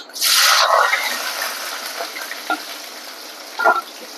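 A burst of sizzling as onions hit hot oil in a pan, then steady frying crackle with a few small pops and clinks near the pan.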